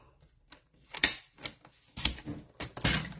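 Card stock being cut down to a narrow 3/4 inch strip with a paper trimmer or blade, a series of sharp close clicks and slicing scrapes in an uneven rhythm, with no talk.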